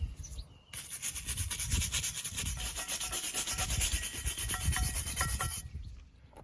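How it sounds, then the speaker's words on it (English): Brake parts from a Ford Focus MK3 are scrubbed with a wire brush, a close, harsh rhythmic rasping of quick back-and-forth strokes that starts abruptly, runs steadily for about five seconds, then stops, with no talking. "give them a wire brush and then a coating of Textar"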